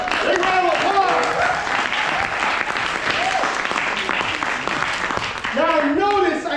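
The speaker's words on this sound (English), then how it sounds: "Big round of applause!" Crowd applause after a Star Wars mentalism trick at a Bindlestiff variety show, loud sustained clapping from a live audience mixed with cheers and excited voices rising above it near the start and end.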